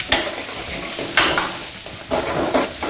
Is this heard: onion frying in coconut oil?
yes